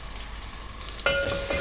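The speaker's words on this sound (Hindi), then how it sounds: "प्याज फ्राई हो चुका है" Onion fries in oil with ginger garlic paste, a steady bright sizzle running throughout, with a sharper clink or stir and a brief tonal ring entering near the end.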